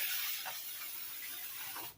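Cooking spray hisses onto a half sheet pan in one steady close burst lasting about two seconds, then cuts off abruptly.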